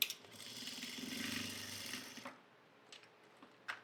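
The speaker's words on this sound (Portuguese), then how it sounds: "só vou passar uma costurinha de segurança toda a volta" A sewing machine stitches around a fabric pocket on a handmade Bible cover in a close, quick mechanical whirr for about two seconds, then stops, leaving faint clicks and handling noises.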